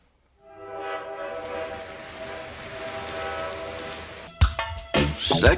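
A train in a film scene sounds a long, sustained horn blast over a rumbling passing roar, loud and close, then cuts to a series of sharp impacts and clatter.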